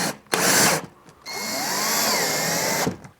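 Power drill driving a Phillips-head drywall screw through a washer into an OSB wall during a home gym rack install: a short whir, then a longer steady whine that rises and slows as the screw seats, close and loud.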